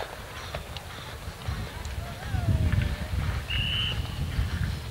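Horses galloping downhill on the cross-country course of the Gawler three day event, a low rumble of hoofbeats rising mid-clip beneath a commentator's voice and crowd ambience.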